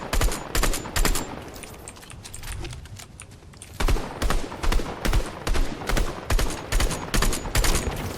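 Rapid gunfire in Fortnite fires as a steady run of sharp shots. A quieter stretch in the middle breaks it up before another fast, rhythmic string of shots follows.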